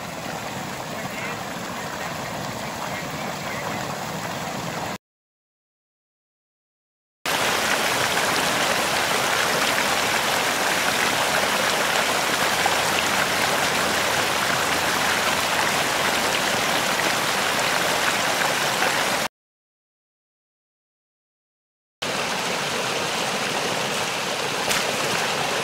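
Water overflowing from a cistern runs out steadily in a loud, continuous rushing stream, like a small outdoor river, with two brief silent gaps.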